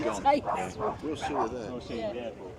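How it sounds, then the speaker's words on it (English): Dog barking and yipping along a seaside café promenade in Gorleston on Sea, Norfolk, with short repeated yelps under nearby people's chatter. "Nice dog."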